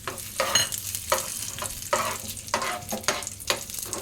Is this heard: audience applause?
no